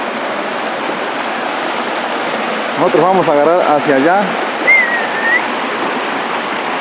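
River water rushing steadily beside a calm pool along a rural trail, a continuous close hiss and splash filling the whole clip, with someone speaking briefly over it and a faint bird call.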